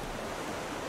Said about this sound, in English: it's getting pretty, a lot of waves here